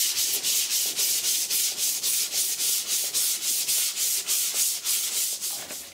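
A power sander with 60 grit sandpaper works the bootlid of a Triumph Spitfire car, giving a loud, steady rasping drone pulsing in an even rhythm of about three strokes a second, with no voices.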